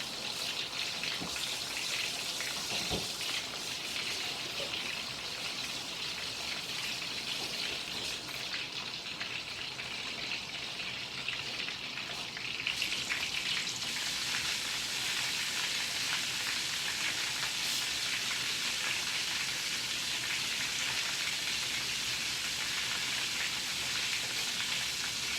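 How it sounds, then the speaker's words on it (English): Chicken fries in oil in a pot, a steady soft crackling sizzle that runs evenly for about twenty-five seconds, quiet and unbroken, with no voices over it. "Frying down the chicken."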